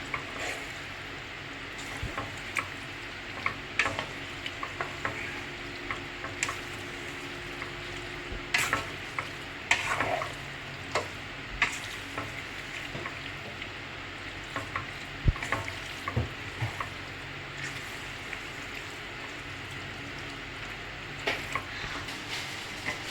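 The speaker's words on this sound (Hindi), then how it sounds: "ये हम इसके अंदर अब अपने नूडल डालते हैं और मिक्स करते हैं" Noodles being stirred into hot keema in a frying pan, a continuous oily sizzle broken by irregular scrapes and clinks of the spoon against the pan, close and fairly quiet.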